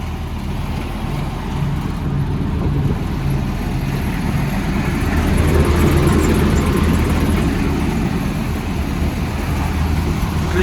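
A Claas Dominator 48 combine harvester engine runs steadily nearby, a deep continuous rumble that swells slightly midway and holds at a constant drone.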